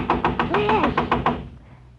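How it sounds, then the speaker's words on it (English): Knuckles rap on a door in a criminal hangout on New York's Lower East Side, a quick, even run of about nine sharp, close knocks that stops abruptly, leaving faint room tone behind. "excitedly knocking on the door in a notorious criminal hangout in New York's Lower East Side"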